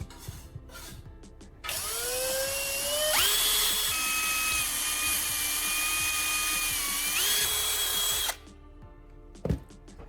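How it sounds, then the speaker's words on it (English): A power drill bores a single hole through the center of a plastic Coca-Cola bottle cap, whining loudly for about six seconds with its pitch stepping up as it cuts, set between short quiet handling sounds. "drill one hole straight through the center of the cap"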